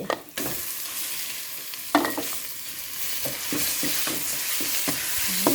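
Ground pork stir-fried in hot oil with a garlic, coriander root and pepper paste for Thai rice soup: a steady close sizzle with repeated scraping of a spatula against the pan, no talking.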